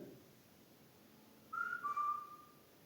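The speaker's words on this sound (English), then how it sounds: "If I whistle, will you whistle too?" A short two-part whistle sounds after a quiet pause, clear and fairly close, with the second note held slightly longer.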